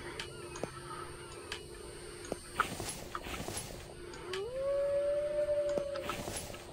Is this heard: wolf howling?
yes